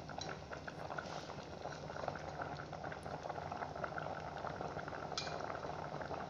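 Raw mango pieces boiling in a pot for jam, with a soft continuous bubbling and simmer, steady and fairly quiet throughout.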